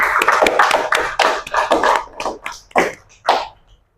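A small classroom group applauds a student group after its presentation, a brief burst of uneven hand claps that thins out into a few scattered claps.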